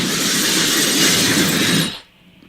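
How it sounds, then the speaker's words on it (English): Train in Black Ops 3 Zombies: a loud, dense rushing rail roar with rhythmic clatter that holds steady, then cuts off abruptly into near silence. "do you remember the train exploding?"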